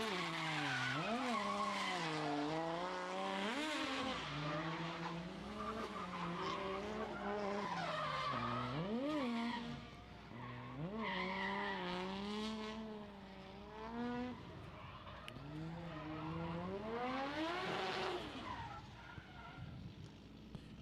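A drift car skids at a competition with a long, wavering tyre squeal and a revving engine that rise and fall in repeated sweeps, loud and close throughout.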